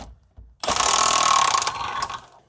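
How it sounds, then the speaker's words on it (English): Adjustable wrench working a large rear suspension bolt on a car, a brief metallic clink followed by a loud two-second grinding, ratcheting scrape as the bolt turns, fading out at the end. "Got an adjustable wrench here. I'm gonna see if I can get that up there."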